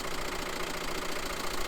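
A VW T5 Transporter engine idles steadily after a jump start from a booster pack, its van sat unused for about eight weeks; a constant, close, rough mid-range running drone with a faint knock, no voices.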